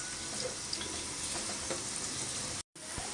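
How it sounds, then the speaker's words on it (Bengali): Garlic, green chili and onion fry in hot oil for cooking greens, a steady dense sizzle with faint crackles throughout, close and without talk. "তেল গরম দিয়ে দিছি, রসুন, কাঁচামরিচ, পেঁয়াজ"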